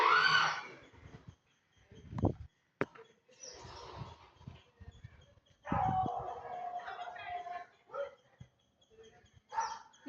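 A neighbour's dog barks aggressively in short bursts from nearby, sharp barks and yips scattered between stretches of a person talking.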